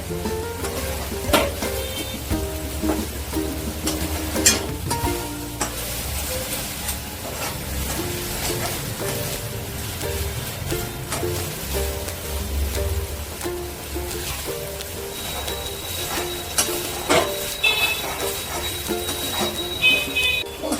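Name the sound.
okra masala with coriander leaves frying and stirred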